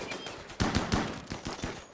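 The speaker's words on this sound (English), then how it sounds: "You walk through a whole hail of gunfire." Rapid bursts of gunfire in the video game Rimworld, a volley of sharp cracks in quick irregular succession, fairly close and continuous across the moment with no talking.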